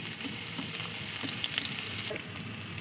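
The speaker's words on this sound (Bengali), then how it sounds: "দারচিনি এলাচ লবঙ্গ পেঁয়াজটা একটু ভেজে নেব" Onions fry in hot oil with cinnamon, cardamom and cloves for chicken biryani, a continuous close, crackling sizzle with soft stirring scrapes throughout and no voices.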